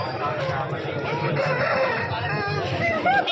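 A rooster crows amid a busy cockfighting-bird market hubbub in Vijayawada, its call partly buried under chatter and chicken clucking nearby.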